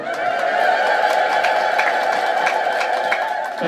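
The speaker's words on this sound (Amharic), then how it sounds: "አምላካችን እግዚአብሔርን በፍጹም እልልታ እልል ብለን እናመስግነው" A church congregation ululating together in praise of God, a loud, sustained, high trilling chorus from many voices filling the hall.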